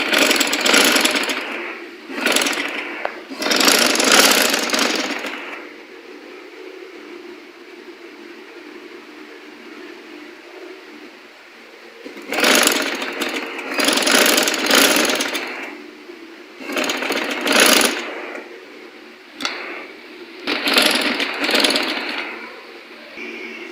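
Sewing machine stitching a folded seam on the back of a long gown, running in several bursts of a few seconds each with quiet pauses between, close and fairly loud.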